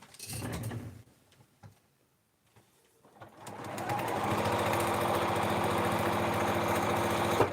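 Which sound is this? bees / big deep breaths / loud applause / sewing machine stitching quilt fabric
sewing machine stitching quilt fabric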